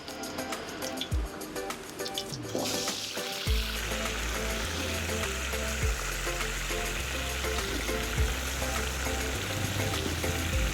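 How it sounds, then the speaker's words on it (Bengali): Papaya and potato pieces hit hot oil in a wok, a burst of crackling after a quiet start that settles into dense, steady close sizzling, with some metallic clinks and no talk. "তারপরে পেঁপে আর আলুগুলো আমরা লাল লাল করে ভেজে নেব।"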